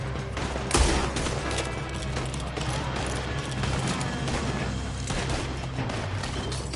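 Dense volley of gunfire in Red Dead Redemption 2, a continuous crackle of overlapping shots with one heavier blast near the start, sustained at steady loudness throughout.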